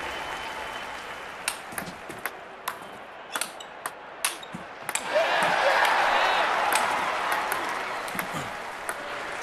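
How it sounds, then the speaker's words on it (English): Sharp ball taps and paddle hits from a table tennis rally in the London 2012 Olympics video game, followed by a swell of loud crowd applause that holds steady for several seconds. "The crowd are really loving this."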